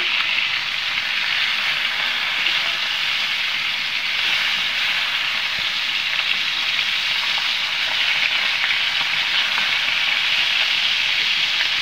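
Pangas fish frying crisp in a pan of hot oil, a loud, steady, close sizzling hiss that holds evenly throughout with no pauses or talking.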